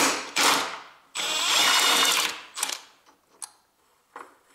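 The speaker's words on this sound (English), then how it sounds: "now I have longer extension and I can open this bolt nicely" A ratchet with a long extension loosens a bolt on a Toyota Prius 1.5 engine, sounding as close, rapid mechanical clicking bursts, one short and one longer, followed by a few faint clinks and taps.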